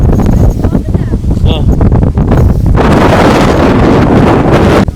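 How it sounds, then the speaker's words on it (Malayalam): Strong wind buffeting the microphone near a sunflower garden, a close, loud, continuous roar that rises further midway, with a voice speaking briefly under it. "ഭയങ്കര കാറ്റ്."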